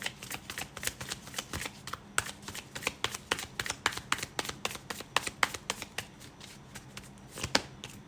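Tarot cards are shuffled close by in a quick, uneven run of crisp slaps and riffles that keeps going throughout at moderate volume, with no talking.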